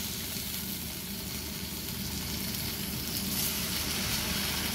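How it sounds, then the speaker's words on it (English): Steady, loud sizzling of chicken thighs frying in bacon grease in a pan, a dense crackling hiss that continues without pause. "add the chicken to the frying pan, right in that bacon grease"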